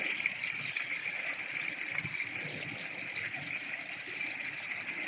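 Water pouring steadily into a garden pond filter tank as the level rises, a continuous moderately loud gush and splash with no voices.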